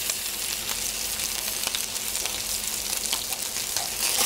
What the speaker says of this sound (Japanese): 全部の側を焼き色つけます